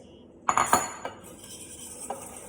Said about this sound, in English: you start with your egg in your bowl and whisk it